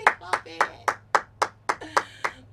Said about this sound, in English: I'm sure you should be clapping.